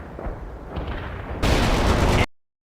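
Gunfire and explosions crackle through a World in Conflict battle, a steady mid-level barrage that jumps to a loud, dense broadband roar halfway through before cutting off abruptly.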